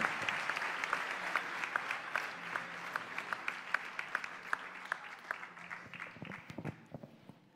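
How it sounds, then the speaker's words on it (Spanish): Sustained applause from an audience at a sports awards gala, with steady rhythmic clapping and sharper individual claps throughout, tapering slightly toward the end. "Fuerte aplauso, por favor, para los familiares de Antonio Labrador Montero"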